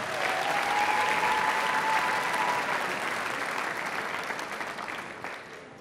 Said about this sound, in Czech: Ještě jeden potlesk pro ní, prosím.